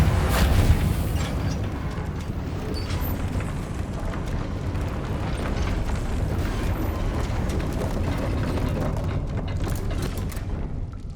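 A Reparo repair spell in Hogwarts Legacy, heard as a dense, sustained magical whirr with grinding, ratcheting mechanical texture and a low rumble, steady and loud throughout with no talk.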